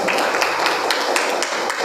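A class of students claps together in a classroom, a dense, even patter of many hands that carries on for a couple of seconds without letting up.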